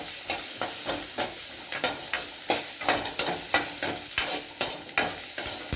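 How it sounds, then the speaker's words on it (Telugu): Onions frying in oil for chutney, a steady sizzle punctuated by regular close scraping stir strokes of a spoon in the pan. "ఇప్పుడైతే ఎర్రగడ్డ అన్నీ ఇలా ఆయిల్లో వేయించుకుంటే పచ్చడి సూపర్ టేస్ట్ ఉంటుంది"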